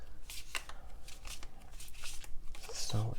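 Rapid papery riffling of tarot cards being overhand shuffled by hand, quick repeated flicks with a voice talking over them.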